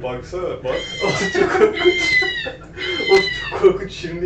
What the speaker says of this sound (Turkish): Kara kedi. Ele geçirilmiş ruh sesi.